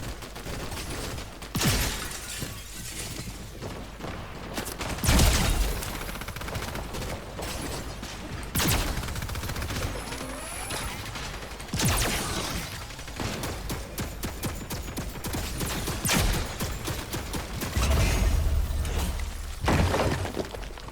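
Rapid pistol gunfire from a ricochet pistol in the Fortnite video game, with several bursts of sharp shots and impacts spread through a busy game soundscape, no speech.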